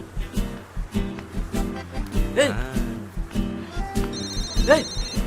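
A telephone rings with an incoming call, a repeating electronic ringtone over a steady rhythmic musical background, fairly loud and close with no speech over it.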